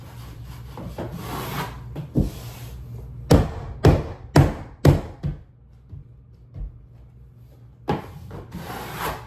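Hung wallpaper being trimmed beside a window or doorway: a run of close, sharp scraping and rubbing strokes, several distinct firm passes grouped in the middle, with softer rustling before and after and no talking.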